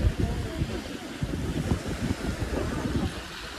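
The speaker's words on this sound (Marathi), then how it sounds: "पूर्ण निळा अफाट समुद्र." Ocean waves behind a temple at Gokarna on the coast, a continuous rumbling surf mixed with heavy wind buffeting the microphone, steady and fairly loud throughout.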